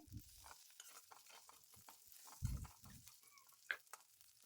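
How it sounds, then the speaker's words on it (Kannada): Garlic and a few broken dried red chillies fry in oil for a crispy potato dish, a faint crackle with a few soft stirring knocks, quiet and close. "ಬೆಳ್ಳುಳ್ಳಿನ ಹಸಿ ವಾಸನೆ ಹೋಗೋವರೆಗೂ ಎಣ್ಣೆಯಲ್ಲೇನೆ ಫ್ರೈ ಮಾಡ್ಕೊಳ್ತೇನೆ"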